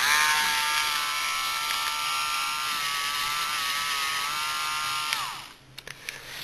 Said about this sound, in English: make sure you have a really good control over both the Dremel and the Lego brick